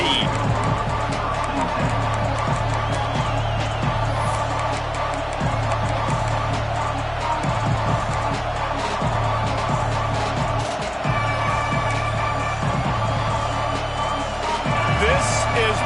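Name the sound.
stadium crowd cheering at Texas A&M football game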